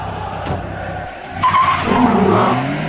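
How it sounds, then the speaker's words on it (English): A car pulls up in a stop-motion animated scene, heard as a loud, close tire skid and squeal over a rumbling engine that settles as the car comes to a stop. "I can just see a car pulling up"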